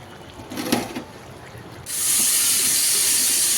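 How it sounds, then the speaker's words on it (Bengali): Potatoes frying in hot oil for biryani, with a quieter start and then a loud, steady sizzling hiss that swells and holds close up. "আর আলুগুলো ভেজে নিচ্ছি বিরিয়ানিতে দেওয়ার জন্য"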